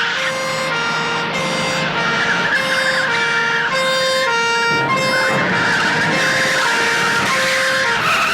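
A loud police car siren wails close by in a steady two-tone pattern. Engine noise from other traffic runs underneath it.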